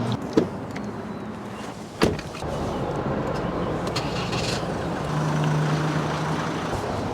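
Someone climbs into a truck and sets off up a basin on the West Coast: two sharp door thumps, then a steady engine and road drone, with a low hum building toward the end. No one speaks.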